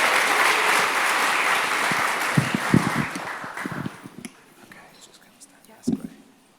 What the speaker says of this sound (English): So let's have a round of applause for Poppy.